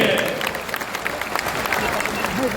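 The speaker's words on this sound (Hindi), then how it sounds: "जोर से ताली बजनी चाहिए।" A crowd in Patna's Bapu Sabhagar hall claps loudly to welcome a new member joining Jan Suraaj, a thick continuous burst of applause with voices mixed in throughout.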